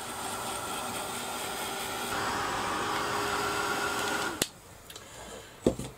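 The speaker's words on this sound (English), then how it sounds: "get my heat gun and give it a quick blast." A heat gun blasts air over a mixed media bottle decorated with sand and sea shells, giving a steady, fairly loud whooshing roar that shifts slightly midway and then cuts off, followed by a few quiet clicks and knocks.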